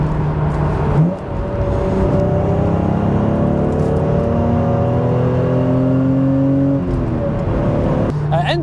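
A Toyota Supra with a five-speed manual gearbox drives under load, its engine droning steadily and rising in pitch through the revs before easing off, loud and close throughout with a brief dip near the start.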